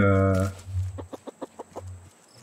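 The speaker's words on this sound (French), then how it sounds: "C'est un coq." A rooster in the survival game Raft gives a loud opening call, then a run of short, evenly spaced clucks, heard alone and close.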